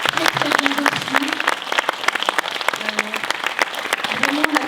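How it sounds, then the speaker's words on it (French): Applause rises for the festival crew at an awards ceremony, many hands clapping in a loud, crackling wash, with a few voices and cheers mixed into the crowd. "je voulais qu'on applaudisse toute l'équipe du festival"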